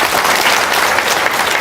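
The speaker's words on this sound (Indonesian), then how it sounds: "Tepuk tangan dong, luar biasa" An audience at a gathering held at a sheep pen bursts into loud, dense applause, many hands clapping together at close range without pause.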